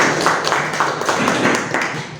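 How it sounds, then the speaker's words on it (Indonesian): A classroom of students claps steadily for about two seconds, a dense patter of many hands at moderate volume without a clear stop. "Tepuk tangan untuk kelompok 3"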